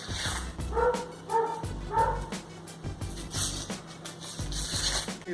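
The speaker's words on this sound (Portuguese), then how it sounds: "Vai, cachorro, late mais, cachorro." A dog barks and yips in short bursts close by, a few barks in quick succession early on, during onion preparation in a home kitchen, with faint kitchen clatter around it.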